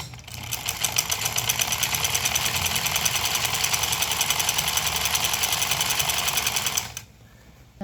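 Sewing machine stitching a samosa-cut pajama, a fast, even mechanical rattle that runs close and loud for about seven seconds before stopping abruptly.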